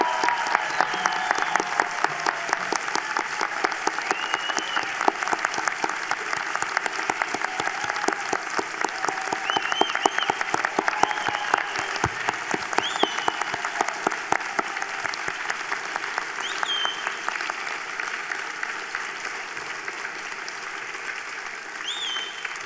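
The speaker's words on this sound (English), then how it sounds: "join me in applauding each of you on the completion of your programs" Sustained applause from a large audience honouring graduates at a university fall convocation ceremony, a thick, even roar of clapping hands with scattered sharper claps, continuing steadily for over twenty seconds before easing slightly.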